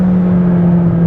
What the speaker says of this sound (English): You can hear the different exhaust. The throttle response is so quick.